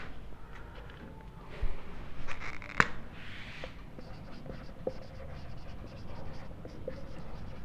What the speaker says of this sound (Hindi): पहले तो हम वही दोनों को लिखेंगे।